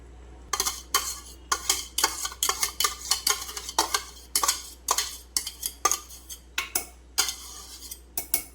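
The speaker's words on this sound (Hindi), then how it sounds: "अब इसमें है ना मैं फेंटे हुआ दही डाल रही हूँ।" Spoon stirring whisked yogurt into Hyderabadi paya marag in a metal pot, with a steady series of clinks and scrapes roughly every half second over a faint constant hum.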